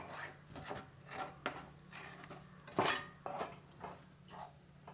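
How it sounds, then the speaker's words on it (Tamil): Sweet mixture of sugar and milk being stirred together in a pan, a spoon scraping and clinking against the metal in irregular strokes, close and fairly quiet with no talking. "இது எல்லாத்தையும் சேர்த்து ஒன்றா கலந்துடலாம்."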